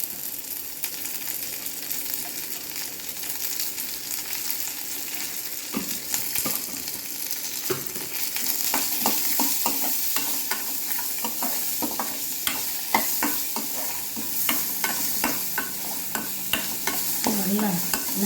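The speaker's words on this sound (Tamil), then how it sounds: "நல்லா கலர் மாதிரி நல்லா வறுத்தாச்சு" Tamarind, dried chillies, garlic, asafoetida and grated coconut are dry-roasted in a pan with steady sizzling and frequent scraping stir strokes, a continuous close crackle with rhythmic ladle clicks.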